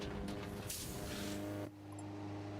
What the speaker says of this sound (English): I turned on mechanical damage and now I've got a damaged engine